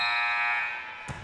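A basketball game buzzer at a girls' sophomore high school game sounds a loud, sustained electronic drone that fades out, followed by a short thud.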